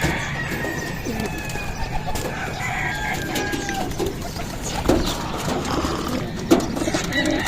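Young pigeons in a loft, soft cooing and bird calls over a busy outdoor background with scattered knocks and movement, fairly close and continuous.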